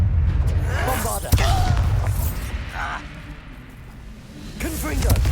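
Booming spell blast from the Bombarda curse in Hogwarts Legacy on PS5, a sharp burst near the middle amid a dense, rumbling battle din with swishing magic effects and voices calling out spells.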